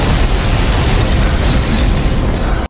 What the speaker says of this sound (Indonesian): tiba-tiba terjadi ledakan besar di dalamnya